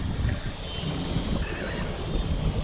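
Steady wind rushing across a microphone on the Mississippi River, a broad continuous roar with low buffeting gusts, loud and close throughout.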